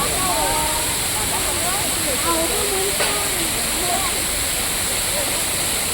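A waterfall at Amboli Ghat in Maharashtra produces a loud, unbroken rushing roar while people talk over it.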